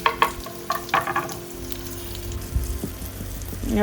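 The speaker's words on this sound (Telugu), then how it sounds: "ఉల్లిగడ్డను వేయిస్తున్నా పచ్చివాసన పోయే వరకు మంచిగా కోలాలి" Onions fry in about five tablespoons of oil in a pan, giving a steady close sizzle with crackling pops and occasional stirring clinks, and no voices over it.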